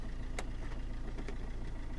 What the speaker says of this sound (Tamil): இப்போ வண்டியோட இன்ஜின் நம்ம ஸ்டார்ட் பண்ணிட்டோம்